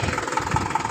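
A Mahindra 475 DI tractor engine idles nearby with a steady, even chugging throb, a brief, continuous snippet with no talk.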